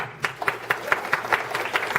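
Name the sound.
audience clapping hands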